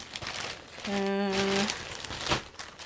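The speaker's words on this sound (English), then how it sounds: "I'm going to now open the last package" Plastic packaging around a photography-related package crinkles and rustles close up as it is opened, with a brief steady tonal hum in the middle of the clip.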